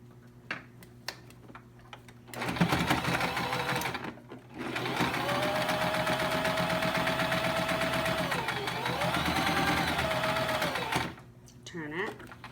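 Sewing machine stitching a fabric face mask: a steady fast mechanical whir and ticking that runs for several seconds, briefly pauses, then resumes before stopping, close and fairly loud, with faint handling noise around it.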